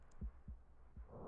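A heartbeat pounds inside a room in the video game Silent Hill 2: three deep, muffled thumps at an even, slow pace. They are quiet and sit alone over a low background hum.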